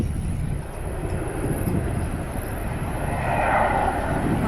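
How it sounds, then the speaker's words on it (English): An airplane drones overhead in a steady low rumble that swells slightly toward the end, moderately loud and continuous, with no voices. "No way you can see planes from here."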